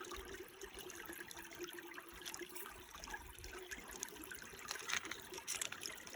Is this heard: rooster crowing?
no